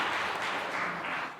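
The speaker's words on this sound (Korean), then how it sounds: "박수 한번 하겠습니다." A church congregation at a Sunday service claps together in a dense, moderate wash that fades out toward the end.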